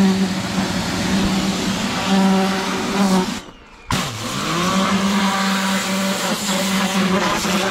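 A 180 bar pressure washer whines loud and close while cleaning a tractor, its motor note steady apart from one brief cut-out and restart in the middle.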